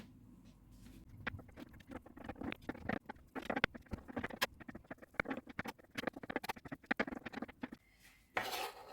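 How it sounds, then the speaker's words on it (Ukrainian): Boiled eggs are chopped with a knife in a home kitchen, making quiet, close, rapid and irregular taps and soft squishes against a board, with no talking. "тепер буду яйця кришити"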